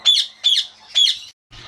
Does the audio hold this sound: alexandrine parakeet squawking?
yes